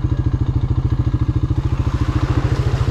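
A Honda four-wheeler ATV's engine chugs loud and close in a fast, steady rhythmic pulse as it rides into shallow mud, with faint clatter over the drone.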